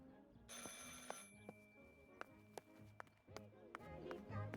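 A telephone rings in the video game Martha Is Dead, a faint bell-like tone sounding amid rhythmic footsteps and low game ambience, with a voice speaking over part of it.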